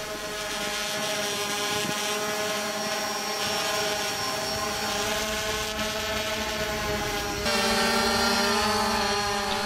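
A Laser Falcon tethered drone flies near a mid-pressure gas pipeline and a heavy-traffic bridge, giving a steady, loud rotor whine and buzz that holds without a break, with some wind noise over the microphone.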